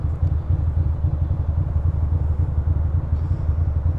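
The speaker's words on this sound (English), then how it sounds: "Bike sounds like it's fine." Motorcycle engine running during a commute ride, a steady, close low rumble with a quick, even pulse throughout and no talk over it.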